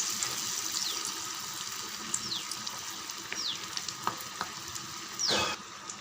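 Snacks sizzle and bubble steadily in hot oil at a home stove, with faint scraping and occasional metallic clinks from a utensil over the frying.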